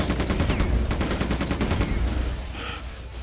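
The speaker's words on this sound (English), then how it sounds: "Machine gun." A machine gun fires in the video game Quake 2: The Reckoning, a loud rapid burst of shots rattling continuously for about two and a half seconds before tapering off.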